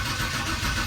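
A car engine cranks without catching, a steady mid-pitched churning drone, close and moderately loud, with no talk.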